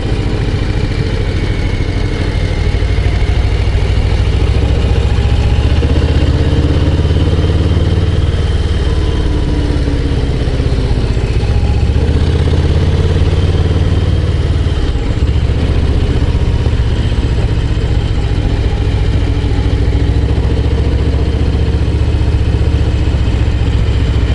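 A Harley-Davidson Low Rider ST cruiser motorcycle rides along the Route des Crêtes, its engine a steady, loud, continuous drone with rushing wind noise throughout and no talking.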